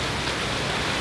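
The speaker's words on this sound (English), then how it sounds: "the downside of the rain season is that it's really rainy here in Bali at times" Heavy rain pouring down during the rainy season in Bali, a dense, steady hiss of drops with no pauses, close and loud, with no voices.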